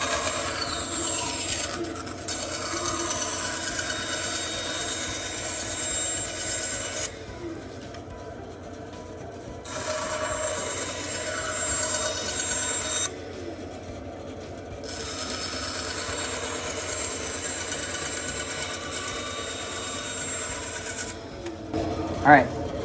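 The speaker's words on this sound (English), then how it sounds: "I'm going to start on the bandsaw" A bandsaw cuts wood in a makerspace workshop with a continuous rattling whir, pausing twice between cuts, with a person talking at times during the sawing.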